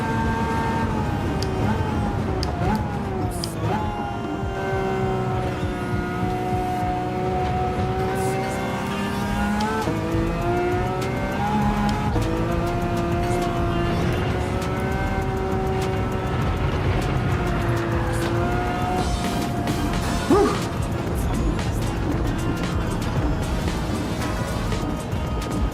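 Ferrari F12 V12 engine howling in Gran Turismo 7, a sustained high-revving drone with rising and falling pitch through gear changes, tires squealing intermittently over the steady engine roar.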